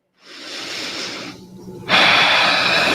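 A person breathing slowly during a yoga session, a long audible exhale followed by a brief pause, then a louder, stronger breath close to the microphone, with no talking.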